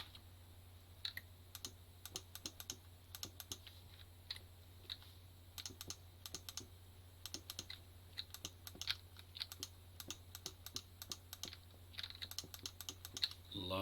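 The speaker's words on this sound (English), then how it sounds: "Lots of clicking of the mouse, eh?" Rapid, irregular computer mouse clicks during Minecraft play, sharp close taps in quick bursts over a low steady hum, no speech.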